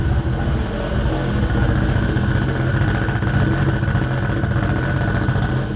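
A car engine idles inside a shop, a loud, steady low rumble with an even mechanical drone that holds without change from start to finish, close to the listener and with no voices.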